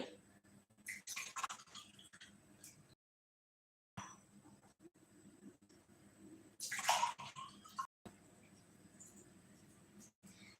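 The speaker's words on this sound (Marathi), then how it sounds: "त्यानंतर त्यामध्ये आपल्याला पाणी टाकायचं आहे" Water is poured into a glass in two short, quiet pours, with faint clinks of glass in between and near-silence around them.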